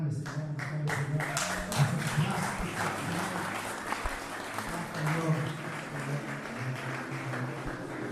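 Church congregation applauding and cheering during praise and worship, a dense continuous wash of clapping with a few sharp taps, steady and fairly loud with voices mixed into the crowd noise.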